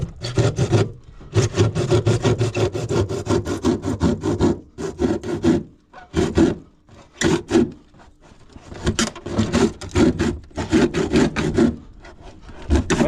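A small hand saw cuts wood for a boat's rear light bracket, giving loud, close rhythmic rasping strokes in bursts with short pauses between them.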